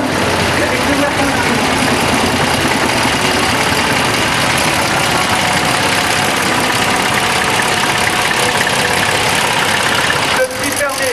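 Tractor engines idle steadily and loudly at a potato festival, a dense continuous rumble and clatter running throughout with a busy crowd murmur mixed in and a brief dip near the end.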